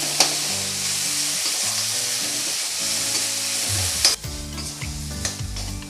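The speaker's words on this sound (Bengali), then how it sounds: "এবার আমি হলুদ লবণ দিয়ে শাকটা ভালো করে ভেজে নেব।" Kulekhara greens fry in a pan with salt and turmeric, making a loud, dense sizzle up close, with a spatula scraping now and then and a low hum running underneath.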